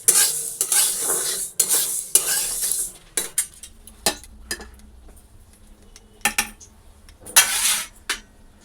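Dal lentils being fried and stirred in a pan in a home kitchen, with bursts of scraping spoon-on-metal stirring and soft sizzling that come and go, alternating with quieter pauses, close and fairly loud.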